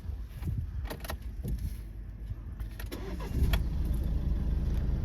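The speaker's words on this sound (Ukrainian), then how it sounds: "Давайте заведемо автомобіль." A 2016 Nissan Qashqai with 100,000 km on it cranks and catches, settling into a low rumbling idle after a few seconds of clicks and shuffling.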